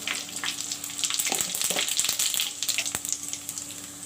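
Cumin seeds hit hot oil in a mutton curry pan and sizzle loudly and close up, a crackling fry with scattered sharp pops and no voices.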